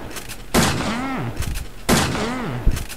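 Two sharp gunshots fire about a second and a half apart in the mobile video game Resident Evil 2, each followed by warbling, groan-like tones that fade before the next shot.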